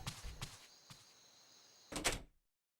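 Apartment door to unit 201 opening in the video game 999: 9 Hours, 9 Persons, 9 Doors, with a few soft thuds of handling, then a louder rattling clunk and scrape near the end before silence.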